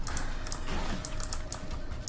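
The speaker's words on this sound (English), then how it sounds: "I like how you can hear all the keyboard clicking that you can hear from my keyboard" Computer keyboard keys clatter during a gaming stream, quick irregular clicks in bursts, fairly quiet over steady background noise with no talking.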